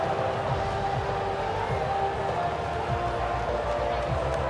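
Crowd cheering in the F1 24 racing game, a steady wash of distant stadium roar and applause that holds at an even level throughout.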